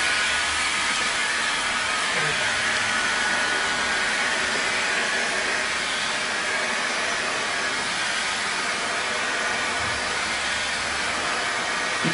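A heat gun blows a loud, steady hiss of hot air without a break as it shrinks wrap film along the wrinkles of a panel.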